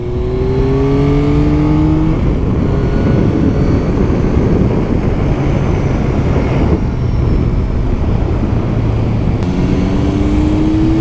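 A 1000cc BMW or Yamaha superbike screams around a race circuit. Its engine is loud and close, with rising and falling revs and gear changes, and it drones continuously throughout with no talking.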